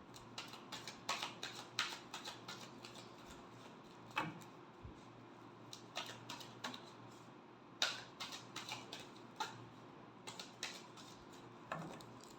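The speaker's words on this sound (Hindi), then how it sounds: "Last shuffle." Tarot cards being shuffled at a reading: quiet, irregular riffling snaps and taps come in short bursts across the stretch, close but faint, with no talking.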